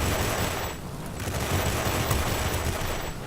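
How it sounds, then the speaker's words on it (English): Aircraft machine guns firing in World of Warplanes, a dense continuous rattle of rapid gunfire that holds steady and fairly loud throughout. "these guns overheat quickly"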